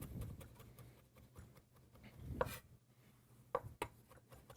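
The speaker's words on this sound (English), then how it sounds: "So we'll take some parsley here and just get it chopped up." A knife chops fresh parsley on a cutting board, giving quiet, irregular thuds and taps under a soft background hum, with a few sharper knocks near the end.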